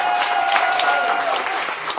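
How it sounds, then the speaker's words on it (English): A club audience at a café gig for a band's debut claps steadily throughout, a dense broadband patter over a faint sustained tone, with some chatter mixed in. "Applaud."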